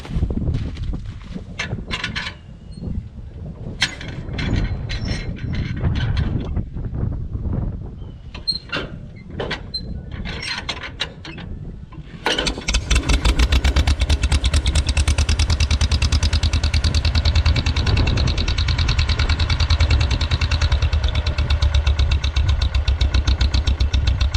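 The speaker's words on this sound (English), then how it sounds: "Didn't quite have that hand crank engaged all the way the first time I pulled it." A 1948 John Deere M tractor is hand-cranked on a cold start: irregular clanking cranking thumps give way to the engine catching and settling into a loud, steady close idle for the rest of the clip.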